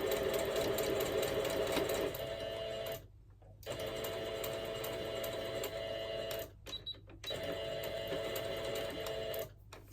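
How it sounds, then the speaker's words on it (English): A sewing machine stitches fabric onto a homemade bookmark, a close steady mechanical whirring in several runs, stopping briefly between bursts before starting up again. "And then we can just have that sewn on."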